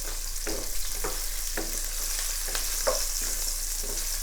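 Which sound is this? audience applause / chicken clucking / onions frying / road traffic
onions frying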